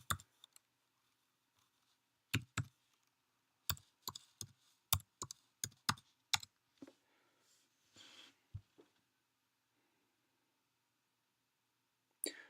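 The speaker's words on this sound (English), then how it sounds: "I just need to put in my password" A password is tapped out on a computer keyboard as a sparse run of crisp, close key clicks with short pauses between them, then a final click after a silence.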